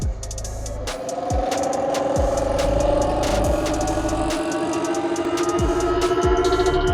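Ola Electric S1 Pro electric scooter playing its vintage-theme artificial riding sound from the MoveOS 3.0 update, a steady mechanical hum with a rising tone and repeated low thumps while accelerating, loud and close, no talk.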